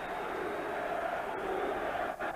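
Football crowd at a 1994 Burnley vs Sheffield United match, a dense sustained roar of many voices chanting and cheering, filling the stadium at a steady level.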